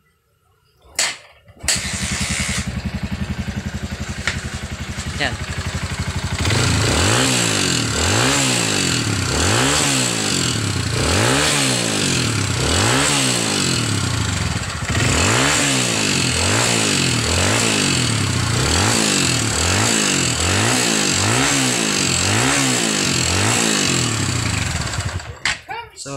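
A Honda CRF motorcycle engine with a noisy top end, long starved of oil, starts and runs steadily, then revs in repeated rising-and-falling bursts. It is loud and close, with a brief spoken word near the start.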